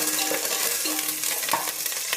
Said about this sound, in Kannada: ಈರುಳ್ಳಿ ಫ್ರೈ ಆಗಿದೆ